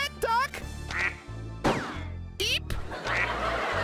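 Cartoonish duck quacks ring out among sliding game sound effects and blasts in the PlayStation 2 quiz game Buzz The Mega Quiz, with several loud quacks in quick succession and voices talking underneath.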